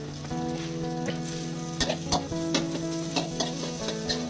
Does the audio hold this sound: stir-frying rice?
yes